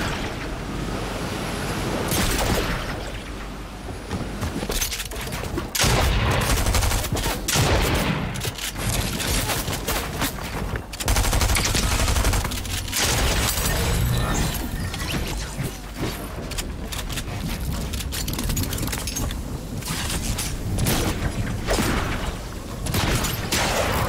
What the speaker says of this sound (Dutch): Hier werd geschoten.